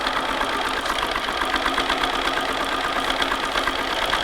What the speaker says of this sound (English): And now we're going to start to sew all of this seam.